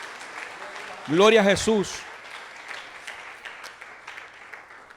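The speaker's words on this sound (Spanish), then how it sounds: "Dale un aplauso al Señor." Church congregation clapping for the Lord, a steady patter of mid-distance applause running under a loud spoken exclamation from a man near the start.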